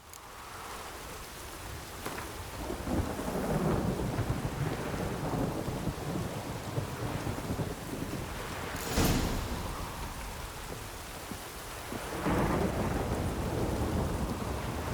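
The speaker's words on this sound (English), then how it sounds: "This rain." Rain pours steadily in The Witcher 3: Wild Hunt on PS5, with several rolling thunder crashes breaking through, one sharp close crack near the middle and another loud rumble later, with no voices.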